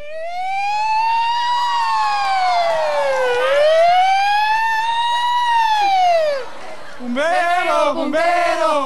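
A fire truck siren wails loudly, sweeping up and down in long rising and falling cycles before switching to quicker, shorter warbles near the end.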